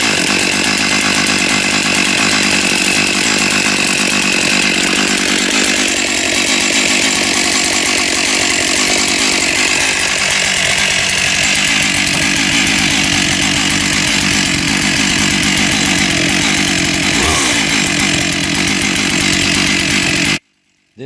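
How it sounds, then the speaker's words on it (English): A loud, powerful chainsaw roars continuously while cutting through a big cedar log close by, its engine pitch dipping and rising under load for about twenty seconds before cutting off abruptly. "get the old chainsaw to roaring again and cut off another one"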